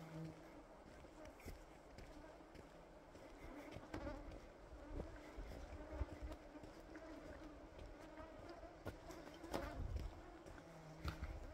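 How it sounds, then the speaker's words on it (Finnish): Mosquitoes and other insects buzz around outdoors during the Nuts 300 trail run in northern Finland, a continuous faint drone with rustling and movement noise, plus occasional quiet voices nearby. "Ai onko hyttysiä?"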